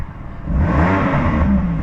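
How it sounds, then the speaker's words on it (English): Idling 2015 BMW M4 with a 3.0-litre 426 bhp engine, its Valvetronic exhaust baffles switching mode, giving a steady close exhaust drone that swells in volume partway through. "you'll hear the baffles and the Valvetronic exhaust die down"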